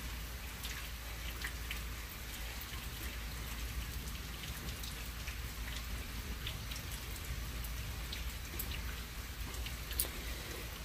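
Steady rain falling during a night-time thunderstorm, a constant close hiss with scattered drips and a low rumble underneath, no voices.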